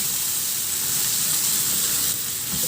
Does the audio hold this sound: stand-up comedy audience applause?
no